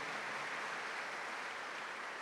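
A congregation at Mass gives a steady, even wash of applause to welcome first-time visitors, with no break across the short stretch.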